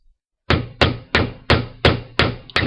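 A hammer strikes small wire jump rings in a metal jewelry-making job: seven sharp, evenly spaced metallic blows ring out close and loud in a steady rhythm after a short silence.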